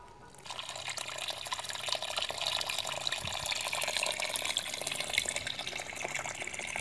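Water poured over solid organic fertilizer of animal manure in a perforated bucket or pot until saturated, a steady close splashing and trickling flow that runs continuously and alone.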